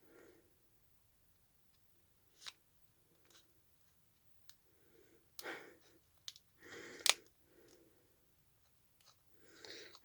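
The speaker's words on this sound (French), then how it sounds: "Je vais m'aider d'une paire de ciseaux." Scissors cut open a firmly glued package up close, in scattered short snips and crunches separated by quiet gaps, with a sharper crack about two thirds through.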